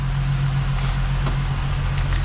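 A 12-valve VR6 engine in a Jetta wagon runs at a smooth, steady idle close by, a constant low hum with no chain rattle and no voices.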